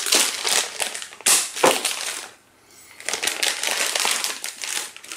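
Plastic packaging around a JBL MS202 micro system is torn open by hand without a cutter, loud close crinkling and crushing in bursts with a brief pause midway.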